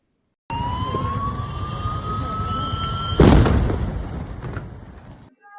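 A sudden loud blast of an oxygen cylinder exploding inside an ambulance bursts over a steady rising siren-like tone, its roar trailing off over a couple of seconds amid background noise.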